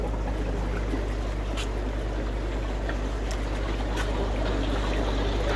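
A pond bubbler air pump runs in the water, giving a steady, continuous trickling and bubbling hiss over a low constant hum, with no talking.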